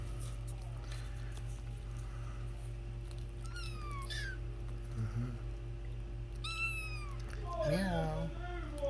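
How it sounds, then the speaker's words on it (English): Rescue kittens meow repeatedly in short rising calls, with a louder cry near the end, over a steady low hum and a person talking softly. "Nice kitties."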